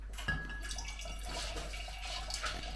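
Wine stabiliser is poured into homemade wine, giving a soft trickle and splash of liquid with light drips, close and quiet over a faint low hum.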